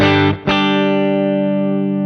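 A loud, sustained electric guitar chord through a Fender Twin amplifier rings out after a brief pick attack, sustaining steadily with a full amplified tone.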